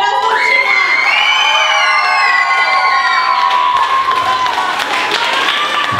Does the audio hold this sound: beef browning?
no